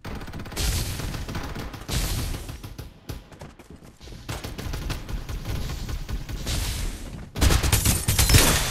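Rapid gunfire trades back and forth in the mobile shooter Farlight 84, with dense bursts of automatic fire broken by brief pauses and a loud final volley at the end.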